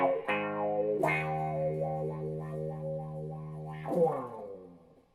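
Electric guitar through a wah pedal on a pedalboard, played with a valve amp: sustained distorted chords whose tone sweeps and warbles as the pedal rocks, with a fresh strum near the end, loud and alone before fading.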